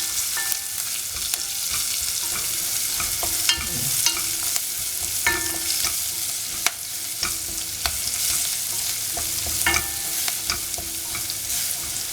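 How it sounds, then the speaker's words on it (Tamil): Cumin seeds, onion and dried chilli crackle and splutter in hot oil as raw banana is cooked, with steady close sizzling and frequent stirring clicks and scrapes throughout. "போட்டால் அந்த சீரகம் பொரியும் எண்ணெயில்."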